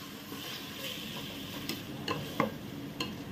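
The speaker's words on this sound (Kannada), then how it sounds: "ಚೆನ್ನಾಗಿ ಫ್ರೈ ಮಾಡಬೇಕು." Onion and tomato fry in a pan, a soft steady sizzle with a few light ticks and scrapes from stirring, close and quiet with no voices.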